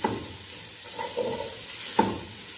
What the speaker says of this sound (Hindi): अब 1 मिनट इनको फ्राई करूँगी